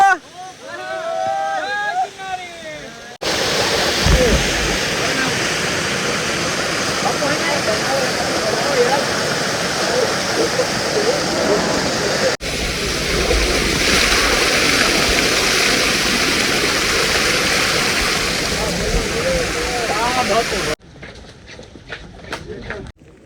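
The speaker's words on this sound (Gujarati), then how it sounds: "જૂની સીડીએ રસ્તામાં નાનકડો ધોધ જોવા મળે" A small waterfall runs beside old stone stairs on a Girnar mountain path during monsoon rain. It makes a loud, continuous rushing wash of water, with brief voices heard before and after it.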